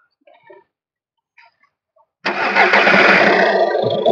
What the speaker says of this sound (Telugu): ఒకసారి అయితే ఇంజిన్ అయితే స్టార్ట్ చేసి చూపిస్తే చూడండి ఒకసారి